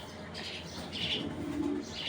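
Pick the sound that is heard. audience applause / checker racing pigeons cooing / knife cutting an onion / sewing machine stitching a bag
checker racing pigeons cooing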